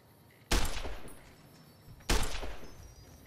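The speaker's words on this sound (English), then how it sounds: "Just opens fire." Two heavy bursts of gunfire from an ambush in Fallout New Vegas, each a loud volley that decays over about a second, with the second burst about a second and a half after the first.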